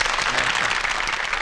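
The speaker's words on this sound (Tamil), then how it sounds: "இங்கே கைத்தட்ட சொல்றான்." An audience claps loudly and continuously in a dense wash of applause, heard in the 1995 Tamil film Makkal Aatchi.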